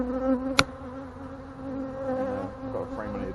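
Bees buzzing around a hive in a bee yard, a steady close drone rising and falling as insects pass, with one sharp knock early on.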